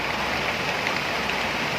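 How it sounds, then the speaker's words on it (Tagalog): Steady, dense hiss of heavy rain pouring down continuously, close and fairly loud, with no voices. "Bakbakan pa rin yung ulan."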